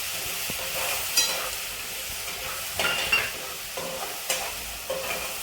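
Garlic and green chili paste with curry leaves sizzles in a pan of curd kadhi while a spoon stirs it, steady frying hiss punctuated by several light scraping knocks.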